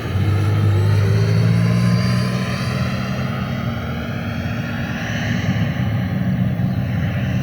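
A Black Horse Viper XL model jet with a 100mm electric ducted fan and WeMoTec Midi EVO motor comes in to land, its steady, loud whooshing fan whine fairly close and slowly easing off in intensity.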